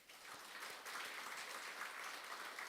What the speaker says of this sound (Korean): 여러분 한번 박수로 한번 축복해 주시기 바랍니다